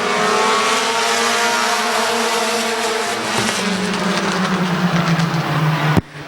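Compact race cars at Midvale Speedway roar together in a loud, continuous engine drone as an eight-lap heat race gets under way, pitch shifting as the pack passes, ending with a sharp thump.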